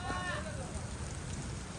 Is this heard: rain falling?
yes